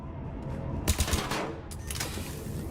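A submachine gun fires in the Mass Effect 3 video game, a short rapid burst of a few close, sharp shots followed by further scattered cracks in the game's background noise.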